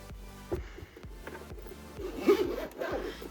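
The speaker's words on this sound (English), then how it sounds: "Zip it up." A JSAUX double-decker carrying case for an Xbox Ally X handheld being zipped shut, a close, quiet rasping zipper pull in a few short strokes.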